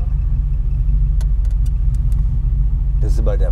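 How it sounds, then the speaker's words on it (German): A classic Mercedes W111 cabriolet idles and runs with a steady, loud low rumble close by at a classic car rally, and a few clicks and voices come in near the end. "der hört sich eigentlich auch nicht mit dem V8 an"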